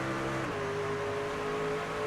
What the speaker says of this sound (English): I can hear that shift in the throttle though